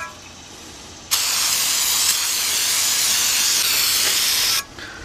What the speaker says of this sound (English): spraying this down with brake parts cleaner